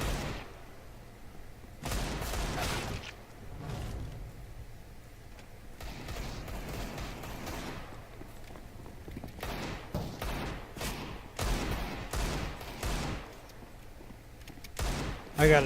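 Gunfire from the video game Counter-Strike: Global Offensive: bursts of shots in clusters over a steady background, several loud rapid volleys coming in waves, with no talk.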